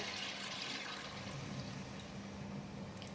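Water pours into a pan holding tofu and minced meat, a steady, soft rushing splash that stays even throughout, fairly quiet and close.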